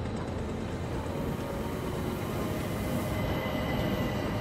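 A train in the Murder on the Orient Express video game gives a steady, loud rolling rumble with continuous rail noise and no voices.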